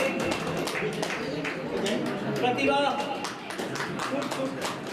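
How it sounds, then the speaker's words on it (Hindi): Audience clapping at a district chess association closing ceremony, a scattered patter of applause running steadily beneath an announcer's amplified voice. "जोरदार तालियां बजा दें।"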